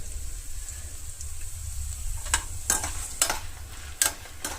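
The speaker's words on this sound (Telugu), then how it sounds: "మీడియంలో పెట్టి వేయించుకుంటే చాలా చక్కగా మంచి స్మెల్ వచ్చి టేస్ట్ కూడా బాగుంటుంది" Coriander seeds, cumin, tamarind and garlic roast on medium heat in a pan for mint and curry leaf chutney, giving a soft sizzle with a few sharp scraping stirs near the end.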